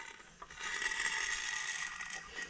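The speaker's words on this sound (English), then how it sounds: "We're going to twist it, the crankshaft," A Kohler Command engine crankshaft on a Scag zero-turn mower is turned by hand, giving a short, close ratcheting mechanical whir lasting about two seconds, with no talk.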